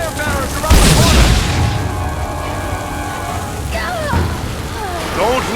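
A fire barrel in The Lord of the Rings: War in the North bursts with one loud, deep boom, rumbling and crackling into a roaring wash of noise, while voices speak over the din.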